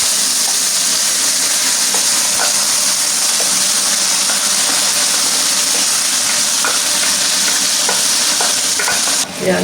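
Tomato paste fries in a pot with masala at a large religious food offering, a loud, continuous sizzle broken by occasional scraping stir strokes.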